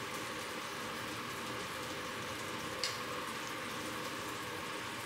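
Food cooking in a skillet gives a constant close sizzling hiss like steady rain, with a single small pop partway through and no voices.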